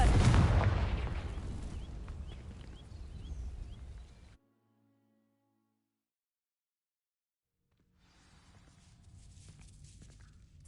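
A Confringo blasting spell explodes in Hogwarts Legacy with a loud, sharp burst that decays over several seconds, then gives way to silence and a faint return of ambient sound.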